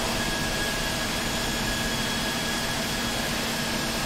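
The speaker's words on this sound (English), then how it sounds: "Cockpit to ground. We have a good engine start." An Embraer ERJ-190 jet engine in Microsoft Flight Simulator 2020 spools up during startup with a steady, broadband whooshing roar and a faint high whine, continuous and even throughout.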